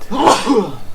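A single short, loud sneeze bursts out close by, over in under a second.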